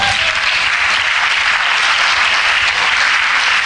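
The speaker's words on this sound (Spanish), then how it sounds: "Denle un aplauso al Señor." A church congregation applauds in a loud, continuous wash of many hands clapping together, close and sustained for the whole few seconds, with no talking over it.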